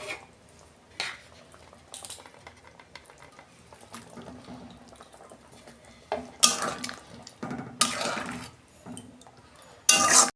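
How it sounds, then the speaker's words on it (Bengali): Eggplant pieces go into an uncovered pot of softened potatoes over a low flame, landing in a few short clattering bursts with scraping and light splashing against the metal, close by between quieter stretches. "এবার আমি বেগুনগুলো দিয়ে দেবো।"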